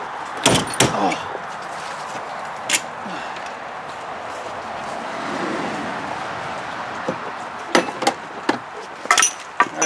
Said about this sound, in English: this door didn't shut very good